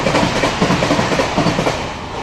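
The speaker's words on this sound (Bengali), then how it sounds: "এই হচ্ছে আমাদের তেভাগা এক্সপ্রেস" The Tebhaga Express passing through a station in daylight, a loud, close, steady rush of rolling train noise with rhythmic wheel clatter over the rails.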